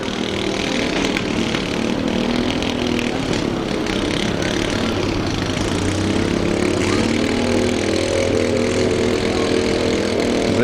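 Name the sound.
derby car engine running at destruction derby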